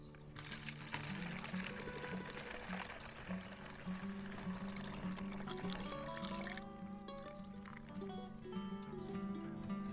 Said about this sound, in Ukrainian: І наливаю другу пляшку.